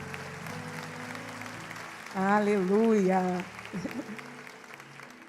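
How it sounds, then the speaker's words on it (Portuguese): Church congregation applauding during a worship service, a soft wash of clapping under a voice that speaks loudly over it, then trails off. "Aplaude a Jesus aí."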